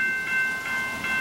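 An N scale model train rolling past on a layout, a soft steady running hum with faint rhythmic rail clicks, close by and with no talk.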